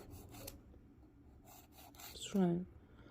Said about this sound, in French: On vient bien limer les parallèles.